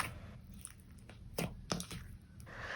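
Crunchy slime with mixed-in add-ins being squeezed and pressed, giving quiet scattered crackles and a few sharper crunchy pops, close and soft.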